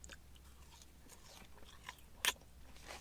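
Someone bites into medium McDonald's french fries and chews quietly up close, with soft crunching and one sharper bite standing out midway.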